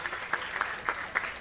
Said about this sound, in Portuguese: Pedir uma salva de palmas também para o Valci,